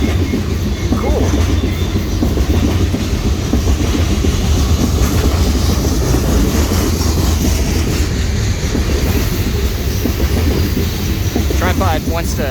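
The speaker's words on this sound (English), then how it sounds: "I think we've seen that train before." A BNSF freight train rolls through a railroad crossing near the US Air Force Academy, a loud, continuous rumble with rhythmic wheel clatter, and a brief squeal of wheels near the end.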